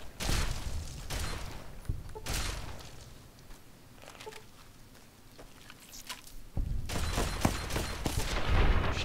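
A shotgun fired in Fallout New Vegas, a modded playthrough, at small bugs: several sharp, loud blasts come in an uneven volley, with a quieter stretch in the middle before heavier shots at the end.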